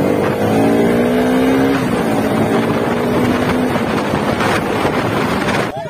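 An off-road motorbike engine drones loudly and steadily while riding, its pitch rising and falling with throttle changes, heavy wind buffeting the microphone and a brief drop in the engine note near the end.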